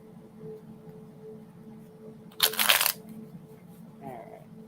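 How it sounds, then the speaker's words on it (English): A deck of tarot cards gets one brief riffle shuffle during a psychic reading, a short crisp burst of flapping cards against a low steady background hum. "They needed a good shuffle."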